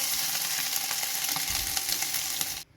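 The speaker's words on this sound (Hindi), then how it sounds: "इसमें हम डालेंगे थोड़ा सा बटर और लहसुन अदरक का पेस्ट। इसको भी हम थोड़ा सा फ्राई कर लेंगे।" Butter and garlic ginger paste frying in hot oil, a loud steady sizzle and crackle heard up close with faint stirring, cutting off abruptly near the end.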